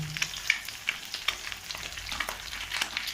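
Onion, cabbage and green chili sizzle steadily in a hot pan for egg noodles, with soft scraping and stirring clicks running through a continuous frying hiss, no voices.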